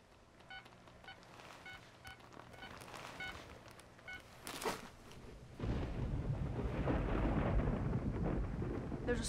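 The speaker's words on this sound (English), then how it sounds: "There's a storm coming in." A thunderstorm builds after a run of electronic tones, with a sharp crack of thunder followed by a loud, steady, deep rumble of rain and rolling thunder that continues to the end.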